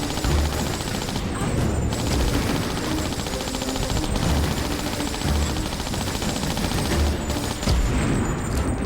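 Uzi gunfire in the Tomb Raider game, a dense, loud, sustained fusillade of rapid automatic shots with booming impacts that runs the whole way through without pause.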